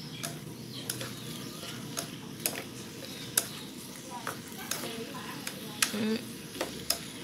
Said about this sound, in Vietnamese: Các bạn mình xào sơ cho nó thấm gia vị vô đây ha